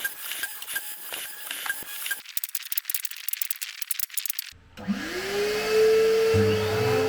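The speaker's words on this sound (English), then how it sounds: "Off to the miter saw next to cut the boards down to a more manageable length." A miter saw rough-cutting pallet boards, with bursts of rattling cuts followed by the whine of the motor spinning up and winding down, fairly close.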